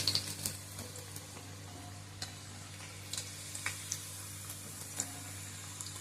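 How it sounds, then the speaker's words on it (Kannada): Kodabale, crisp ring-shaped snacks, fry in oil over a low flame with a faint, steady sizzle and scattered soft pops and bubbling ticks, no voices. "ಸಣ್ಣೂರಿನಲ್ಲಿ ಫ್ರೈ ಆಗ್ತಾ ಕಂದು ಬಣ್ಣಕ್ಕೆ ಬರ್ತಿರ್ತಾ ಇರ್ತಾವ ನೋಡಿ."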